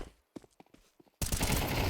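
Counter-Strike 2 match audio: a few sharp clicks and footstep-like taps, then a sudden dense burst of automatic gunfire that fills the last stretch, loud and continuous.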